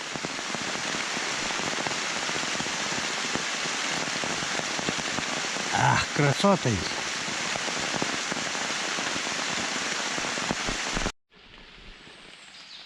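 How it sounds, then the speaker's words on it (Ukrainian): Warm, heavy summer rain falls in a forest, a dense steady hiss of drops on leaves and ground with a few sharper knocks near the middle, before the sound cuts off abruptly near the end; someone speaks briefly. "Фіксуємо, який грибний дощ. Паде теплий, рясний."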